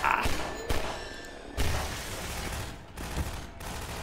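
Gunfire in the video game Half-Life 2: several loud, close bursts of rapid shots with sharp thumps between them, separated by brief lulls of lingering echo.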